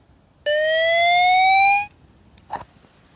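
A Retevis NR630S two-way radio sounds its alarm: one loud, steady rising electronic tone lasting about a second and a half, followed by a couple of faint clicks.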